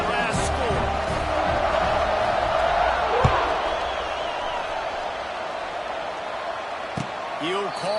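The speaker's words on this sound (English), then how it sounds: "this crowd is buzzing after that last score" Football stadium crowd at a Baylor at Iowa game buzzing after a touchdown, a broad steady roar of many voices with scattered shouts and a couple of sharp thumps, filling the whole stretch.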